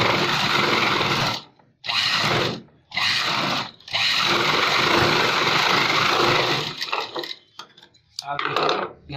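A sewing machine stitches the back neck of a blouse in loud, close, whirring runs that stop and start in several bursts, with brief pauses between seams and shorter stuttering stitches toward the end.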